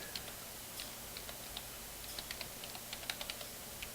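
A search being typed on a computer keyboard, heard as light, quick, irregular key clicks close by over a quiet room hiss, with no talk.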